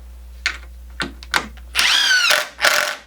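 A power drill drives a screw into 2x4 lumber, several short whirring bursts followed by a longer loud run and a final burst, close and alone.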